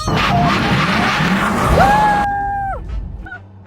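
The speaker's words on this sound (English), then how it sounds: "So we're going to launch the Taycan Turbo S." A Porsche Taycan Turbo S electric sports car launches loudly with a long tire squeal and rushing roar that cuts off abruptly into quieter rumble and a brief tonal whine.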